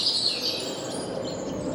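Birds chirp at a roadside art site on Route 66, with high, thin tweets at moderate distance over a steady background hum.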